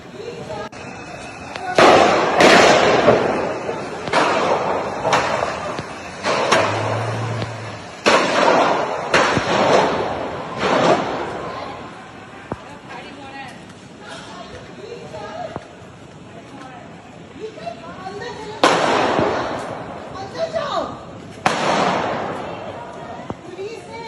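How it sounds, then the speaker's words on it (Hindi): Gunfire from a police encounter with armed criminals in Gurugram, many rounds fired as sharp bangs in irregular bursts, with frightened voices and chatter underneath throughout. "जरा अपने दर्शकों को वो फायरिंग की आवाज सुनवाते हैं।"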